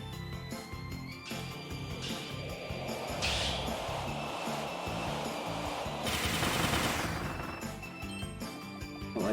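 Kirby's Mega Gunner power fires in Kirby and the Forgotten Land as steady rapid shots under game music, with two brighter bursts rising midway and toward the end.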